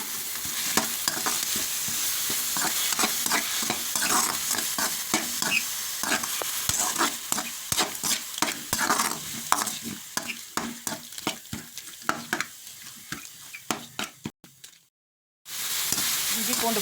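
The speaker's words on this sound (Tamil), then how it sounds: "இப்போ அந்த அரைச்ச இஞ்சி பூண்டு விழுது, கொத்தமல்லி, புதினா, பச்சை மிளகாய் குறப்பாக அரைச்சது 2யுமே கலந்து பச்சை வாசனை போகிற வரைக்கும் வதக்கிடுவாங்க" Ground ginger garlic paste with coriander, mint and green chilli sizzles in hot oil while being stirred, with rapid scraping spoon strokes over constant frying crackle that falls silent briefly near the end before resuming.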